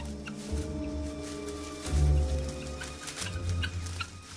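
A flock of guinea fowl in the Congo wild squawks and clucks in a loud, continuous clamor, with a brief surge of harsher calls midway.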